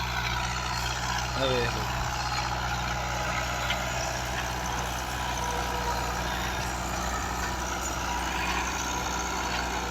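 A Fiat 640 tractor pulls a nine-tine plough through a field being prepared for cotton sowing, its engine a steady, loud diesel drone throughout, with someone speaking briefly over it.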